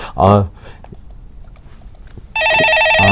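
An incoming call sets off a telephone ringing on a Korean stock-market call-in show, a steady electronic warble that comes in loud and close after a brief spoken phrase and continues with a voice briefly over it.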